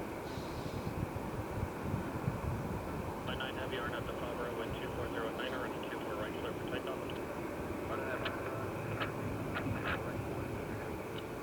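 An airliner departs LAX for Honolulu with a steady, distant jet engine roar. Someone talks over the roar throughout.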